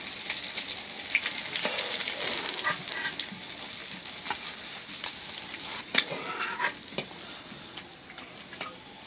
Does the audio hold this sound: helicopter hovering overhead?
no